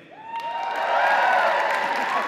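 A comedy club audience at a live stand-up show cheers and whoops, the noise swelling from a scattered start into a loud, sustained roar with a high whistle-like whoop rising over it.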